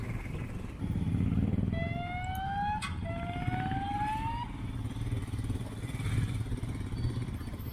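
Motorcycle ridden over rough, broken roads in northeast India, a steady engine drone and road rumble running throughout, with a siren-like tone sweeping briefly in the middle.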